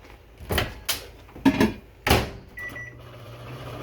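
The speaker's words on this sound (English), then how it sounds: "Put this in the microwave." Microwave oven handled in a kitchen to heat rice: a series of sharp clicks and clunks from the door and buttons, then a steady low hum as it starts running.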